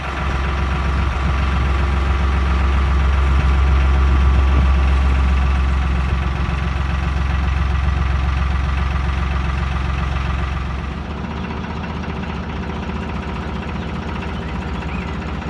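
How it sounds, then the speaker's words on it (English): Steady, loud diesel engine drone from a narrowboat, running continuously throughout with a low rumbling throb; the level drops slightly near the end as revs ease, with no talking. "The engine's been running for about an hour at various speeds as well."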